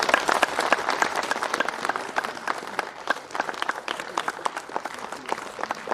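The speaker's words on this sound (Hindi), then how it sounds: "तो तालियों से इनका स्वागत कीजिए।" Sustained crowd applause welcoming a guest at a villagers' gathering in Poonch, Jammu and Kashmir: dense, steady clapping from many hands throughout, fairly close, with no speech over it.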